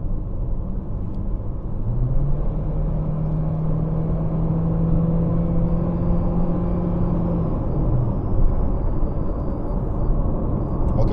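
A Honda Civic with a 1.8-litre engine accelerates from inside the cabin, a smooth rising engine hum over steady road rumble that climbs for several seconds, then eases back.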